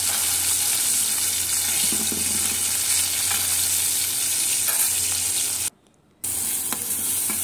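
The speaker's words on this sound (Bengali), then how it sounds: "মরিচ পেঁয়াজ দিয়ে এভাবে ভেজে তারপরে ভাতের সঙ্গে খাই" Small koi fish frying with chili and onion in hot oil give a loud, steady sizzle that fills the scene, broken by a brief near-silent gap before the crackle resumes.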